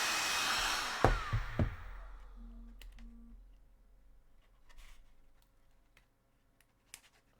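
A heat tool blasts hot air onto a plastic miniature part for a Sisters of Battle model, a steady loud whoosh that fades out within a couple of seconds, followed by a few faint clicks and knocks.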